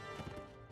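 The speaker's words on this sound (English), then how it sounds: "running our horse into the archers" Horse hooves gallop in the Mount & Blade: Warband video game, a quick run of soft, rhythmic clip-clop thuds in a battle against archers, faint under the game's background sound.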